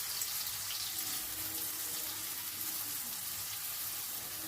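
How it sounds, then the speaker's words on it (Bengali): Chopped carrot frying with cumin seeds in a pan over a high flame gives a faint, steady sizzle that holds evenly throughout without a break. "গাজর কুচিটাকে আগে একটু ফ্রাই করে নেব। হাই ফ্লেমে রেখে একটুখানি নাড়াচাড়া করে নিচ্ছি।"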